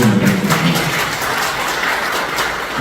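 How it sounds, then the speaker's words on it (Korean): Audience applause at a Korean memorial foundation event, a steady wash of many hands clapping continuously for about three seconds with no voices over it. "박수 부탁드립니다."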